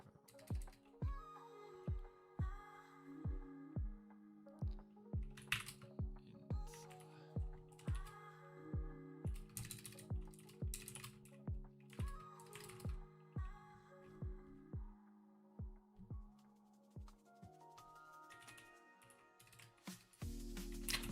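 Steady rhythmic typing on a computer keyboard while someone codes in C++, close and clear with crisp individual keystrokes forming a continuous, uneven clatter throughout, with no talking.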